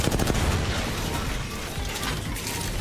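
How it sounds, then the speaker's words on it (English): An R-301 rifle in Apex Legends fires in rapid, rhythmic automatic bursts, loud and close, mixed with clicking mechanical weapon handling sounds throughout. "R301 is one of the most satisfying weapons in Apex."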